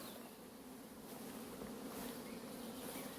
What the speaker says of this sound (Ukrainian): Бджола активно в даний час облітується.